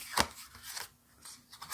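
Papery riffling and soft slaps of a tarot card deck being shuffled by hand in a quiet room, coming in a few uneven bursts up close.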